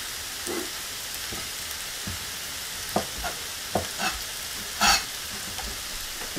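Chicken breast pieces cook in a pot of quick lentil soup, giving a quiet bubbling simmer with scattered spoon clicks and stirring knocks, one louder scrape near the end.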